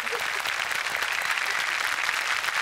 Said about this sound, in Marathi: टाळ्या त्यांच्यासाठी जोरदार